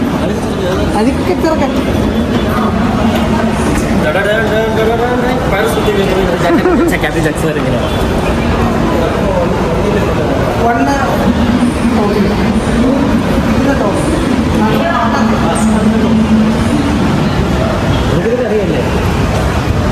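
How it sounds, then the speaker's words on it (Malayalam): Busy metro station ambience in Kochi with a steady rumble of trains and crowd chatter, people talking nearby throughout. "ഞങ്ങളിപ്പോൾ മെട്രോ സ്റ്റേഷനിലാണ്"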